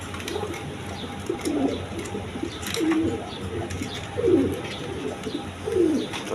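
A healthy breeding pair of pigeons coos repeatedly nearby, with about five soft coos spaced a second or so apart over a faint ambient hum.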